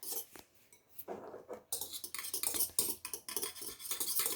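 A spoon stirs powdered milk into milk in a bowl, producing steady, close scraping and clinking against the bowl in a continuous busy rhythm after a few quieter opening taps.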